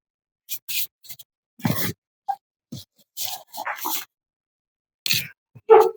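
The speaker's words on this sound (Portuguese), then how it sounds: "Vou agora novamente apresentar minha cachorrinha para vocês, porque ela tá chorando ali, querendo falar com a mamãe" A small pet dog whimpers and cries in short, scattered bursts with gaps of silence between them, close by and fairly quiet.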